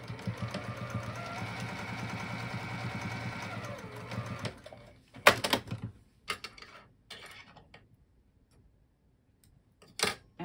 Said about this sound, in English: And then we'll just stitch that little opening closed.